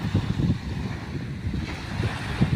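Surf rolling onto a beach, a steady low wash of waves with wind rumble across the microphone, moderately loud and continuous, no talking.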